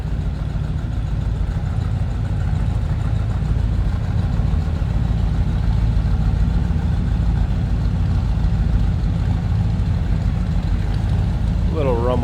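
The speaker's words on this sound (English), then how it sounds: "Little rumble coming out of that 350 small block Chev." A 1971 Chevelle's 350 small block Chevrolet V8 idles steadily, a continuous low, even rumble held close and loud throughout, with a brief higher voice-like sound at the very end.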